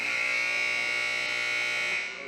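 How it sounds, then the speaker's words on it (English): A loud electronic buzzer ends a hockey period in an arena, one sustained harsh blare lasting about two seconds before cutting off, with faint crowd noise beneath. "Getting the buzzer."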